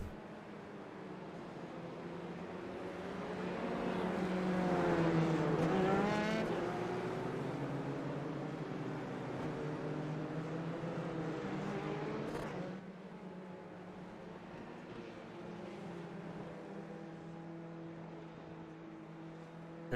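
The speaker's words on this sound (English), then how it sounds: "We are all caught up behind the iRacing safety car." Formula 3 race cars queued behind the safety car at the Canadian Grand Prix in iRacing, engines droning and rising as a car passes close, then a steady lower hum, with no voices.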